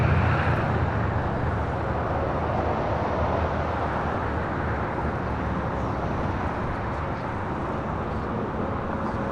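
A United Airlines Boeing 757-200 arriving from Newark, its jet engines giving a dense, steady roar that is strongest at the start and slowly eases, fairly close with no voices over it.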